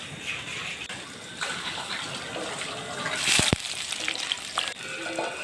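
Onions frying in hot oil in a pan over a wood-fired stove, a steady close sizzle with bursts of crackle and a brief louder spatter midway.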